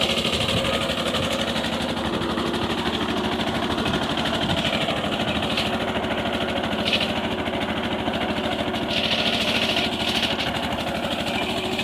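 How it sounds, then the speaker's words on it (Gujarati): A mini tractor engine runs steadily while pulling a five-tine weeding cultivator through a pigeon pea field, a continuous close mechanical drone with a fast rattling rhythm and faint hissing bursts above it. "તુવેરમાં કલટી હાંકી રહ્યા છે મિની ટ્રેક્ટરથી."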